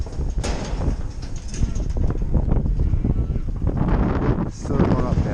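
Strong wind buffets and roars across an open farm field where cattle are being moved, a steady loud rumble with gusts, while someone talks over it.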